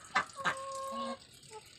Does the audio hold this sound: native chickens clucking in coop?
yes